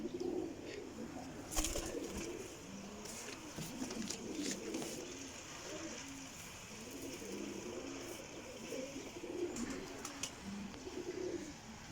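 Sialkoti black-faced pigeons coo close by in soft, repeated rolling calls, broken by a few sharp clicks and wing flutters.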